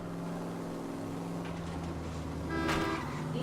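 Car engine droning steadily in L.A. Noire, a constant low hum with a brief louder rev near the end, no talk over it.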